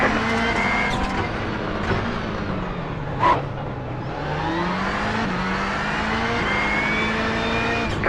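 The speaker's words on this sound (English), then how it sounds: "Just gonna put it in second gear and floor it." Race car in iRacing rallycross at Sonoma pulling away hard in second gear, a loud steady engine roar with rising and falling pitch and a brief crack midway, close and continuous with no voices.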